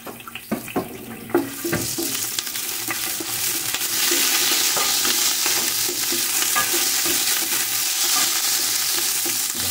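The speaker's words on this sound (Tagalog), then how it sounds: "Mainit na guys, unahin na natin itong mga luya" Sliced ginger hits hot olive oil and fries with a loud, continuous sizzle that builds and stays dense, preceded by a few clinks and stirring knocks of a utensil against the pan.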